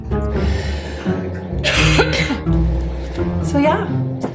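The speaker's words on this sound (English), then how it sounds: "I apologize for all the coughing and sniffling and snortling because I am sick." Several harsh coughs and throat-clearing bursts from a sick speaker break up a stretch of nearby talking, coming in short rough clusters.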